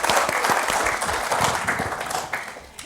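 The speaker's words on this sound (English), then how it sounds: "Let's just give these guys a round of applause and sit them back down." An audience at a science lecture applauds with a dense burst of clapping, loud at first and slowly tapering off over a few seconds.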